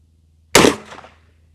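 A single loud .44 Magnum shot from a Henry All Weather side-loading-gate lever rifle loaded with Winchester white box ammunition, fired at a 30-yard target, a sharp close crack with a short fading tail.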